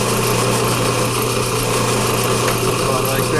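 Power drill cutting a small countersink into a Porsche 944 steering joint, a steady high whine with a constant hum and no talk.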